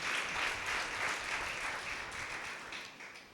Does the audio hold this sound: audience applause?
yes